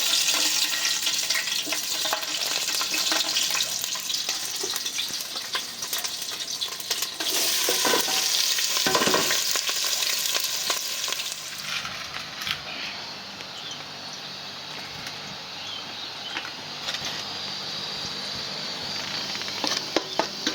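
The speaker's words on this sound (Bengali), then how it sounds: "গরম হয়ে গেছে, লঙ্কা আর পেঁয়াজটা ভেজে নেব" Chillies and onions frying in hot mustard oil for a chicken bhuna, a loud, steady sizzle and crackle with a few stirring scrapes, easing slightly toward the end.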